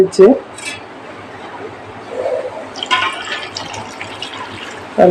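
Water being poured into a cooking pot for avial curry, a short liquid pouring rush in the middle, framed by louder clanks of the pot and utensils at the start and end; no voices.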